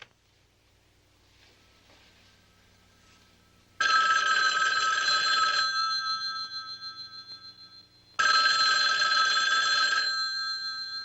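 A telephone bell rings twice in long, loud bursts with a quiet gap between them and no talking.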